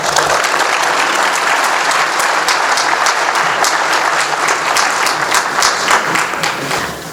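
A gala audience in a hall gives sustained, dense applause with many hands clapping at once, holding a steady level for several seconds before tapering at the end.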